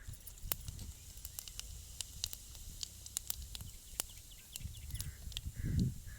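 Cumin seeds crackle in hot oil in a village kitchen pan after mustard seeds, sharp scattered pops and ticks over a faint hiss, quiet and close, with a brief low rustle near the end.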